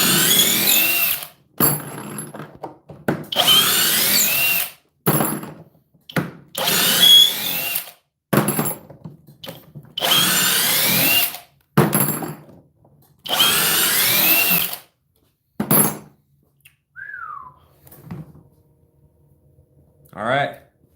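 A cordless hammer drill in drill mode with turbo on, running on a 6 amp-hour lithium battery, whines loudly in repeated bursts of a few seconds each, separated by short pauses, with someone speaking briefly near the end.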